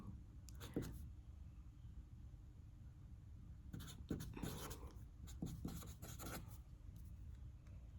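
Pencil or pen scratches across paper in short bursts, writing out maths working with brief pauses between strokes, close and fairly quiet.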